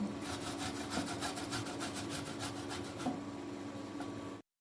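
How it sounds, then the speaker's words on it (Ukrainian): Two large sour apples rubbed against a hand grater, a steady rasping scrape repeating in quick strokes for several seconds, close and fairly quiet, with no talking. "Стерти два великих кислих яблука."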